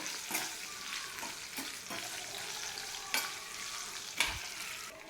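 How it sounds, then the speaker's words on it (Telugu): Dried red chillies frying in hot oil for temple-style pulihora tempering, a soft continuous sizzle broken by several sharp stirring scrapes of a ladle. "ఇప్పుడు ఎండుమిరపకాయను కూడా వేసుకొని కొంచెంసేపు ఫ్రై చేసుకున్నాము"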